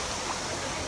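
A waterfall rushes steadily beside a swimmable cave in Cuba, a soft, continuous wash of falling water heard faintly and briefly with no voices.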